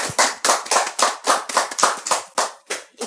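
A small group claps hands in a quick, regular rhythm of sharp, close claps. The claps come in short bursts of about eleven strong beats, with no talking.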